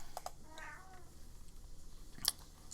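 A cat meows behind a person indoors, a couple of soft, fairly distant cries set against a quiet room, with a sharp clatter near the end.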